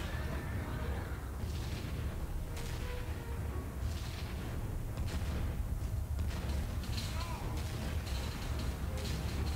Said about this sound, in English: He's just coming over here shooting my civilians.